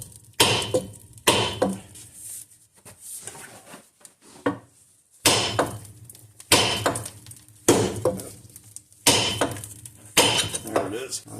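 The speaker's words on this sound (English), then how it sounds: "Top here, we're going to hit that with a hammer." A hammer strikes a seized ball joint on a Jeep Grand Cherokee's front axle. Sharp metallic blows land about once a second in two groups, loud and close, with a short quieter gap between them.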